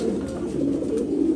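Racing pigeons coo in a low, continuous throaty burble, close by and steady throughout the short stretch, with no talking.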